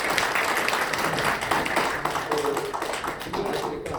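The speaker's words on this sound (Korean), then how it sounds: "우선 큰 박수 한번 부탁드리겠습니다" A seated audience at a Korean business lecture claps in a dense, continuous patter of many hands, with faint voices mixed in.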